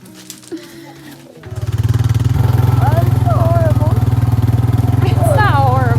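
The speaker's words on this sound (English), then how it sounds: "Four-wheeler? Yeah. Hopefully that one starts." A four-wheeler engine on a farm cranks and catches, then settles into a loud, steady low idle that runs continuously, with people talking over it.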